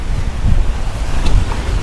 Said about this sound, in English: So we have a little bit more wind than forecasted.